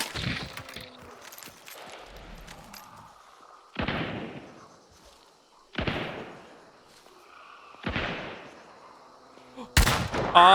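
Gunshots in Hunt: Showdown 1896, four heavy booming reports spaced about two seconds apart, each with a long reverberating tail, then a final sharper bang.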